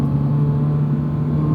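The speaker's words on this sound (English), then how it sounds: "I actually do like this exhaust. It's not, it's sporty enough without being overbearing." Toyota GR86 with an aftermarket exhaust, a loud, steady engine drone held close by with no speech over it.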